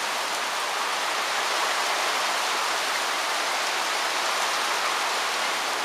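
Heavy rain falls during a storm at a barn, a loud, dense, unbroken hiss of downpour and runoff that persists throughout, with no voices.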